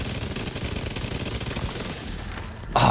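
Rapid automatic gunfire in the video game The Division 2 during a boss fight, a dense, steady stream of close shots that runs for over two seconds, then breaks off into a sharp burst of impact noise.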